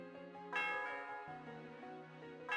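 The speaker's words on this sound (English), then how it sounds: "The sound of the bell reverberates through the area." The Celestial Tower bell in Pokemon Black 2 rings out in two strong, resonant strikes with long ringing tones, the second strike arriving near the end.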